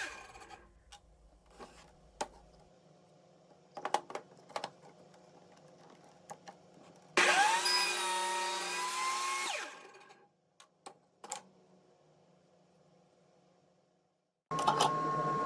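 A saw trims wooden tenon pieces held upright in a small jig for a firewood end table. One steady, loud cut lasts a few seconds, with scattered clicks and handling noises around it, then a second cut starts.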